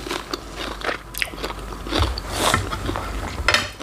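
Crisp, close bites crunch through raw sweet snow peas, eaten alongside spicy papaya salad with fresh shrimp, salmon and pork sausage, with several sharp snaps followed by chewing.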